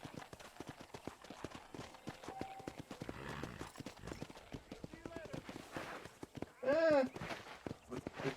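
Horse hooves clip-clopping at a steady walking rhythm in the video game Red Dead Redemption, with a brief whinny partway through and voices talking over the hoofbeats.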